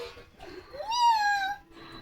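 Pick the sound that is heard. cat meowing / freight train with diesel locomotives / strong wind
cat meowing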